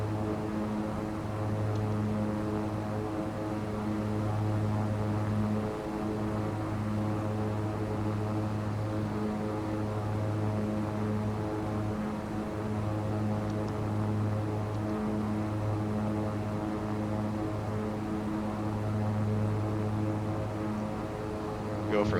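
King Air twin-turboprop aircraft taking off, propellers and engines producing a steady, loud harmonic drone that holds for the whole stretch, heard from inside.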